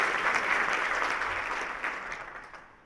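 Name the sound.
audience applause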